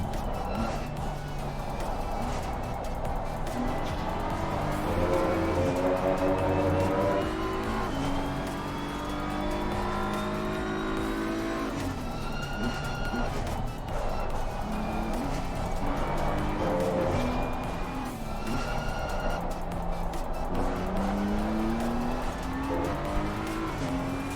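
GT3 race cars lap a circuit during a rookie-series race, their engines a continuous loud drone that rises and falls with gear changes and overlapping cars, with faint tire noise beneath.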